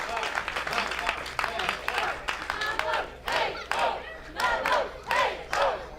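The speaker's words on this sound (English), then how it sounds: "the crowd now starting to get behind Chuck Mambo" A professional wrestling crowd cheers and chants in surges during a PW Clash match, loud rhythmic bursts of yelling and clapping rising and falling across the arena.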